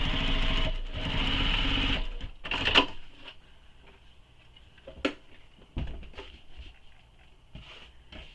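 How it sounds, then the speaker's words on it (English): A home sewing machine runs a steady stitching burst on a tote bag seam, loud and close for about two seconds, then stops. Handling clatter and soft bumps from fabric and tools follow. "Then we'll sew this with the seam allowance given in the pattern."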